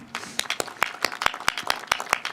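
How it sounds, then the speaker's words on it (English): Audience clapping at a Harris County Precinct 4 community mural unveiling in Gulfton, heard as distinct, fairly close individual claps in an uneven rhythm, like a modest crowd rather than a dense roar. "can we please give another huge round of applause?"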